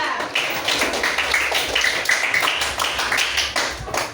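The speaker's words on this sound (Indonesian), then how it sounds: "Kita kasih tepuk tangan untuk kelompok 3" Schoolchildren in a classroom clap for a group of classmates, a brisk, continuous patter of many hands at close range, with bright individual claps standing out throughout.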